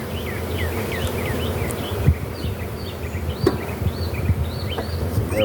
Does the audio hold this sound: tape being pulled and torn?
no